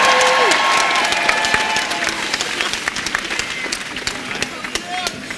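An outdoor crowd at a climate strike rally in Iowa City claps and cheers for the city council, city manager and mayor, a loud dense applause that gradually thins into scattered claps.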